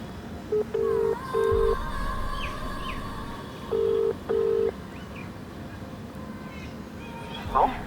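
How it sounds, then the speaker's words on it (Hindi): Telephone dialing tones as a call is placed on speakerphone: two short groups of clean electronic beeps, three then two, fairly close and loud over a low steady background hum. "हाँ, मैं उनको कॉल करके अभी बुलाती हूँ।"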